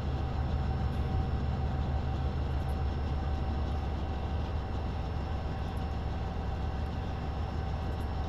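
Steady, continuous rumble of a train running in a train simulator game on the Miami to West Palm Beach route, even and unbroken at moderate level with no talk.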